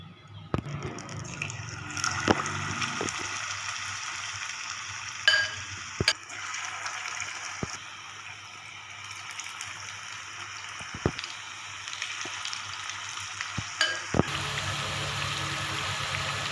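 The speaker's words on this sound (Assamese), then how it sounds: "এতিয়া ইয়াতে এনেকৈ লেটিয়াই মই তেলত ফ্ৰাই কৰিম।" Sliced bitter gourd frying in refined oil gives a steady, close sizzle with scattered sharp pops and crackles, and no voices.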